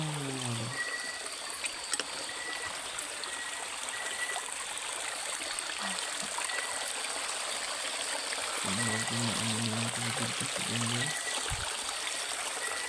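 Shallow stream current flowing at night, a steady broadband rush of water running continuously throughout, fairly close, with a few faint low tones and brief bursts of other noise over it.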